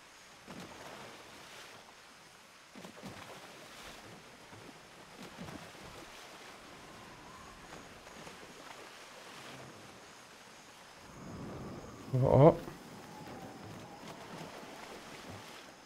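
Ship ploughing through waves at full throttle in the pirate naval game Skull and Bones: a steady low rush of water and wind with a louder, brief splash-thump around twelve seconds, no talking.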